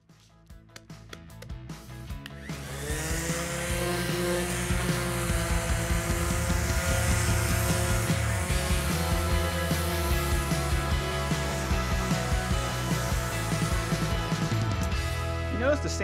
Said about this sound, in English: Notice the sanding starts to go a little bit slower.